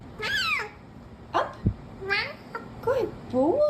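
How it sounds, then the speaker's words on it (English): A cat makes a series of odd, warbling meows and chirping cries, close and fairly loud, in several separate bursts with short pauses between them. "I have never heard a cat sound like this before."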